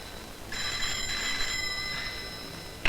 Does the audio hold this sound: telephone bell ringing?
yes